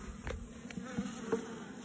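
Honeybees buzz at a hive while chasing hive beetles, a faint close hum with a few individual bees droning past in short swells over a quiet background.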